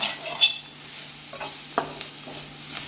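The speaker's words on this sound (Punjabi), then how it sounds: "ਪਿਆਜ਼ ਵੀ ਆਪਣੇ ਬਣ ਗਏ ਤੇ ਮਿਰਚਾਂ ਵੀ ਆਪਣੀਆਂ ਵਿੱਚ ਵਧੀਆ ਹੋ ਗਈਆਂ ਫਰਾਈ ਹੋ ਗਈਆਂ" Sliced onions and green chillies fry in a pan for a spiced okra dish, giving a steady soft sizzle with a few light stirring scrapes and clicks, close by and without speech.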